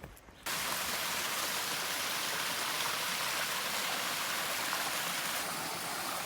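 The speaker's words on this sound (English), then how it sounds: "We're getting this little treat of walking along this creek with this beautiful sound of the water." A woodland creek flows steadily beside a trail, its rushing water a loud, continuous hiss with no break throughout.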